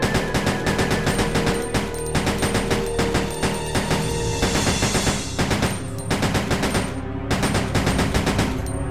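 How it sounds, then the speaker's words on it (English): Rapid handgun burst fire in Resident Evil Survivor 2, loud continuous clusters of gunshots repeating throughout, with a brief dip in the shooting near the middle before the bursts resume. "now let's try it with burst fire. That's me spamming fire"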